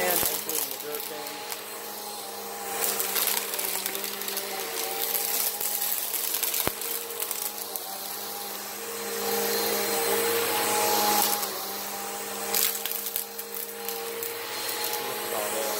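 Bissell vacuum cleaner sucking sand from a carpet, a loud, steady motor whine that swells and eases as the head moves, with the gritty rattle of sand and a brief sharp click partway through.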